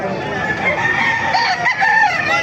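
A rooster crows loudly at a bustling chicken market in Calumpit, Bulacan, its drawn-out call layered over steady crowd noise and other fowl.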